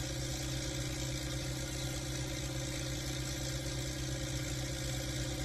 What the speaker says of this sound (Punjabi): ਟਰੈਕਟਰ 'ਚ ਕੋਈ ਘਾਟ ਨਹੀਂ, ਟਰੈਕਟਰ ਫੁੱਲ ਮਾਰਦਾ ਜ਼ੋਰ